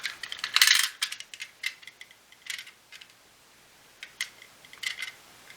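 Small metallic clicks and snips of copper wires being stripped of their insulation, a sparse irregular run of sharp close ticks with short gaps between them and no talk.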